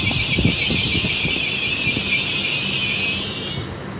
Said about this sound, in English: Coming in on platform 3 is the 1741 ScotRail service heading to Edinburgh Waverley